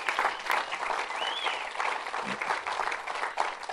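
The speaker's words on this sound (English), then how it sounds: "Give him a hand clap." A church congregation applauding after a Sunday service performance, a full, steady round of clapping with a faint voice rising briefly over it.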